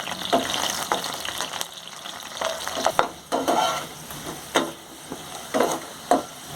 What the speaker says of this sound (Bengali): মিডিয়াম আঁচে রেখে আলুটাকে লাল লাল করে ভেজে নেব